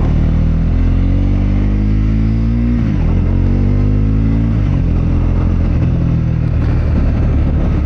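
A Triumph Scrambler 400X motorcycle accelerating on a city street in Manila, its engine loud and close, rising in pitch through gear changes with a brief dip between shifts and steady wind noise.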